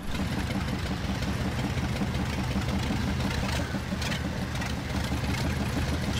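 A UAZ off-road vehicle in the SpinTires video game runs its engine with a steady, gruff, tractor-like rumble, loud and constant for several seconds with no talking.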